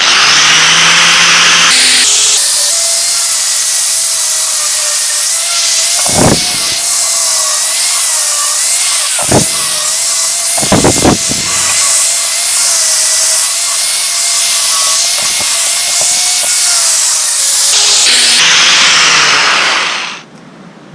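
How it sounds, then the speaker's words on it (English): Welding on a metal corral gate makes a loud, steady crackling hiss that runs for about eighteen seconds, broken by a few brief sharp pops, then cuts off. "Get ready to weld on it."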